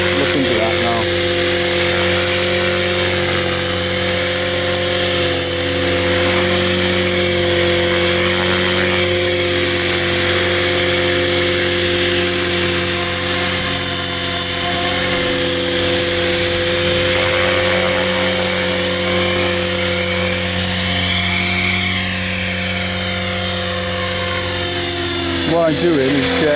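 An Align T-Rex 500X RC helicopter on its maiden flight gives a steady, loud, high-pitched rotor and motor whine with stable harmonic tones, flying outdoors on a windy day, continuous for the whole stretch.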